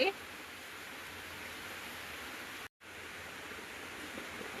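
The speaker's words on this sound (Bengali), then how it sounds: "বাইরে খুবই সুন্দর বৃষ্টি হচ্ছে মুসলধারে বৃষ্টি" Heavy monsoon downpour of rain outside a home, a steady dense hiss filling the scene throughout, briefly cutting out for a moment before resuming at the same even level.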